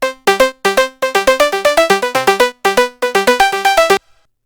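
A bright, dry synth lead plays a quick staccato melody of short plucked notes in bursts, then stops abruptly into silence.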